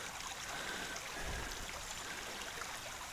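A slow-running stream at a gold sluicing claim near Fresno, California, flows with a steady soft burble and trickle, close and continuous with no voices.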